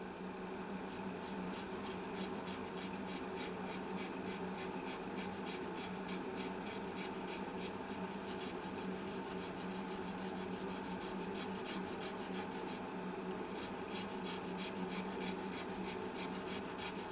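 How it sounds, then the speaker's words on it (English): Steady, continuous rubbing of fine 600-grit sandpaper over a wood finish during a finish repair, a close, even rasping texture with faint rhythmic strokes running unbroken throughout, no voices. "I sanded it up to 600 grit now."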